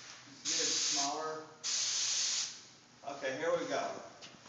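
A spray gun lays a final coat of CIC Centurion acrylic lacquer in two loud, close bursts of hiss, each about a second long. A voice talks softly between and after the bursts.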